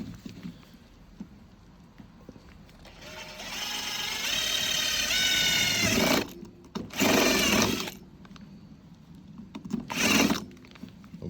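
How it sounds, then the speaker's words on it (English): A stepped drill bit bores through a smoke device baffle in several loud, grinding bursts, a long run followed by two shorter ones with pauses between, close up with no talking. "And now we're going to drill the baffle."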